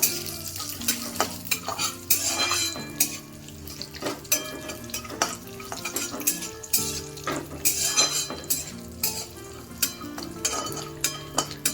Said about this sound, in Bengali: প্রথমে আমি কাঠবাদাম আর কাজুটাকে দিয়ে দিচ্ছি। অল্প একটু নাড়াচাড়া করে নেব।